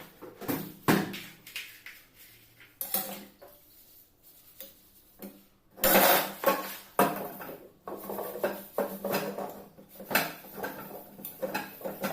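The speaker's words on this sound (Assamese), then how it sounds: "এই বাচনখিনি ধুই লওঁ" Dishes and utensils being washed by hand, with steel plates, pots and cutlery clattering and clinking in close, irregular bursts, some louder knocks mid-way.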